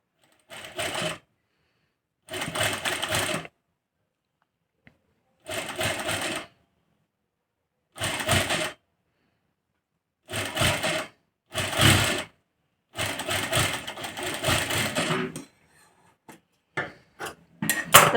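Sewing machine stitching a finishing strip onto fabric around a paan-shaped neckline, running in about eight separate bursts of one to two seconds with silent pauses between, close and loud, ending in a few short, uneven stitching runs.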